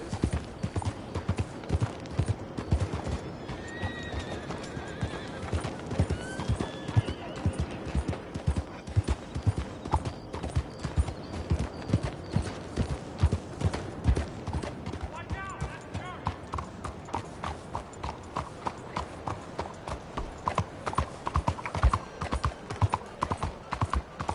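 Horse hooves in the open-world western game Red Dead Redemption 2 clip-clop in a steady trotting rhythm throughout, with a brief whinny early on and characters talking over the hoofbeats.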